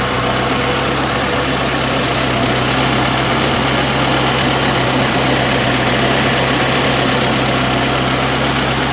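A 1981 Alfa Romeo Spider Veloce engine idles at around 800 rpm, a steady, loud, close rumble with an even low hum that holds unchanged throughout, no voices.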